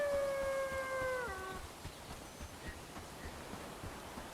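Wolves in the video game Bellwright let out a long, wavering howl that slides downward and fades after about a second and a half, leaving quiet ambient rustling.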